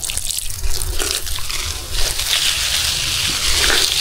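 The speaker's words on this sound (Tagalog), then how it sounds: "Watering." Water sprayed onto young jackfruit trees on a farm, a steady hissing splash and trickle that stays loud and close throughout.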